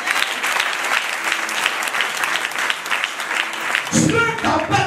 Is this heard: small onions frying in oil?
no